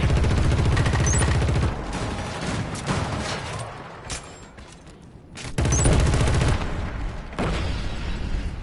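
A grenade explosion in Killzone Shadow Fall multiplayer, loud blasts and sharp bursts of gunfire with a sudden heavy boom partway through, in a dense battle mix.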